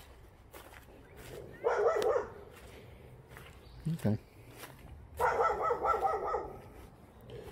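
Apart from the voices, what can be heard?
dog barking at passerby from its yard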